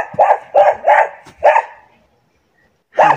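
Dogs bark near a small house in the high Andean páramo mountains near Quito, Ecuador: a quick run of four or five loud, close barks, a pause, then one more bark.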